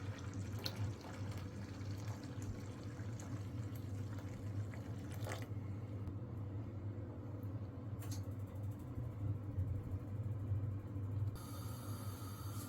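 Water pours into a pot holding two cups of lentils, about five cups in all, in a steady, continuous stream for the whole stretch, with a few faint clinks, in a home kitchen.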